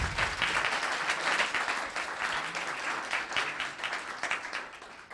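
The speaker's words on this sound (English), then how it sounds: "So everybody give Noah a round of applause." Steady applause fills a town council meeting room, many hands clapping continuously at moderate loudness for several seconds before tapering slightly.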